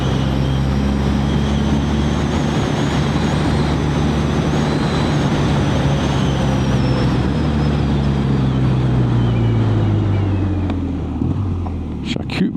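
A BMW R12 GS motorcycle riding along, its engine a steady loud drone with a shifting pitch that rises and falls as the bike accelerates and slows, close and continuous, tailing off near the end.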